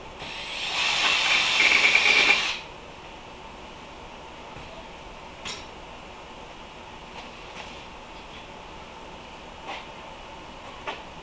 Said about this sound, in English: Just going to pre-drill these two.